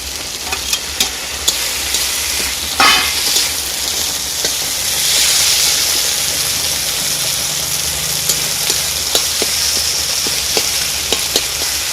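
Chopped tomato and green chilli hit frying ginger in a pan for a chicken curry, a loud, continuous close sizzle with scattered clicks of stirring and a brief burst as the ingredients go in, with no voice.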